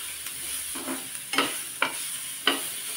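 Garlic and tamarind frying in a pan, with a steady sizzle beneath several distinct scraping stirs of a spoon spaced about a second apart, close and moderately loud.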